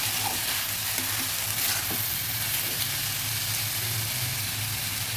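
Kechki fish fries with split green chillies in a pan, giving a loud, steady, close sizzle and hiss that runs unbroken with no talking.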